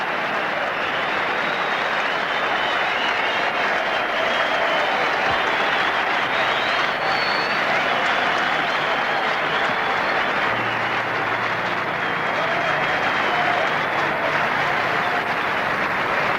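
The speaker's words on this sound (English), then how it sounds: "Sustained applause for one of Eden Park's favourite sons, Richard Hadlee." Dense, sustained applause from a large cricket crowd at Eden Park, Auckland, steady and loud throughout with a faint murmur underneath.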